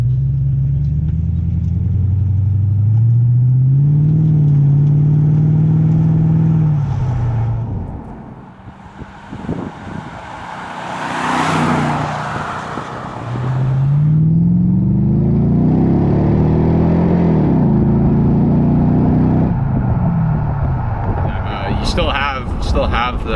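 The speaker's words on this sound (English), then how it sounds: "So the car has an aftermarket Borla exhaust, correct?" A 1996 Chevrolet Impala SS V8 with an aftermarket Borla catback exhaust rumbles loud and close, rising in two long revs with a brief dip between them, a deep throaty drone throughout.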